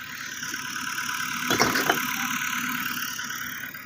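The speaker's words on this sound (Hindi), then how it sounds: "ये ट्रैक्टर ट्यूबवेल पर चल रहा है" A tractor engine runs at a tubewell in a rural wheat-growing village, a faint steady mechanical drone heard from a distance, with a brief rattling burst in the middle.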